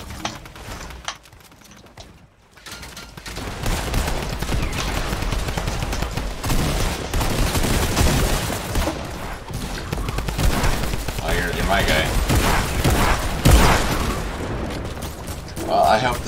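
Sustained Fortnite Battle Royale gunfire, rapid bursts and scattered shots rattling on for many seconds at moderate loudness, with a sharp louder crack near the end and a brief quiet gap early on.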